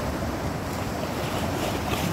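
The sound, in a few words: ocean waves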